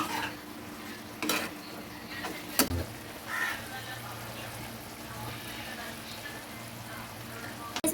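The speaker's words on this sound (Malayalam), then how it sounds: "നല്ല പോലെ ഇളക്കി മറിച്ചെടുക്കുന്നുണ്ട്." Prawn curry is stirred in a pan, a quiet low sizzle broken by a few sharp scrapes and clinks of the spoon against the metal, with a voice speaking at intervals.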